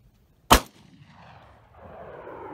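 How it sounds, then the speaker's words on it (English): A single sharp revolver shot cracks out close by on a jackrabbit hunt in northern Nevada, followed by a short fading echo and faint outdoor rustling. "I'm gonna fire the revolver."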